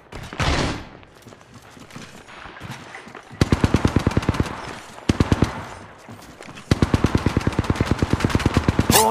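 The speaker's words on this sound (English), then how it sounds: "A second squad is firing at us." Automatic gunfire in the mobile battle-royale game Apex Legends Mobile: two long, loud, rapid-fire bursts of evenly spaced shots, separated by a pause of quieter game ambience and a softer whoosh near the start.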